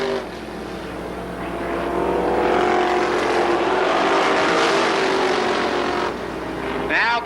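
Winged sprint cars race at Columbus Motor Speedway, their engines a continuous loud roar that swells and eases as the pack passes, with a brief chirp near the end.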